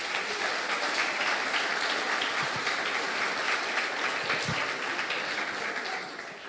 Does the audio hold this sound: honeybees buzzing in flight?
no